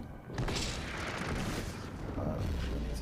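Explosion in the video game Unknown 9: Awakening, a dense, loud roaring blast that fills the whole stretch with rumbling debris-like noise, continuous rather than a single crack.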